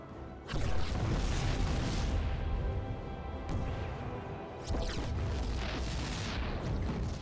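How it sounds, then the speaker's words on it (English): In the StarCraft 2 video game, an artillery bombardment rains down as loud, continuous rumbling explosions, with two fresh heavy blasts hitting at the start and again midway. "Bombardment incoming."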